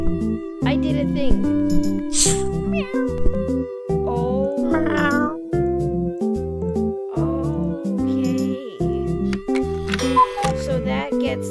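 A cartoon cat meows in a puzzle video game, its short calls riding over a loud, steady looping game melody with ticking, clock-like percussion throughout.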